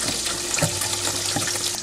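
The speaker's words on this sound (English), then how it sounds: "And 1/2 cup of buttermilk." Buttermilk pours into a mixing bowl of wet ingredients (egg, egg white and vanilla) in a home kitchen. A steady, close liquid splash runs through the whole clip with no talking.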